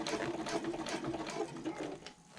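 A sewing machine top-stitches a zipper placket on a handbag, running steadily and close with a continuous whirring hum that slows slightly near the end, with no voices.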